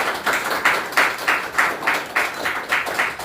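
An audience at an indoor policy forum claps together in a steady rhythmic pattern, about eight even beats of group clapping, close and clear with no talking.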